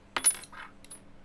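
A watch set down on a checkpoint counter in the Papers, Please video game, a short bright metallic clink followed by a softer second rattle, close and clear with no voices.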